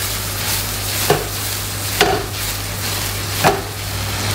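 Tomatoes and red chillies cook down in a pan with a steady close sizzle and bubbling. A spoon knocks against the pan three times, and no one speaks.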